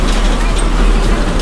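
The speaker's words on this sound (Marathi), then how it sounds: "आज रविवार दिनांक 15 मार्च 2026 रोजी मोगरे गावातून आम्ही प्रदर्शन पाहायला लालपरीने निघालो आहोत" A red Maharashtra state transport Lalpari bus carries village farmers along a road, its engine drone and road rumble loud and steady throughout, with a few faint voices beneath.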